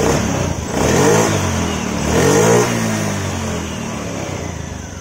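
A Honda Scoopy scooter with a stalling fault revs its small engine, a steady close mid-pitched drone with two brief swells, and no voices.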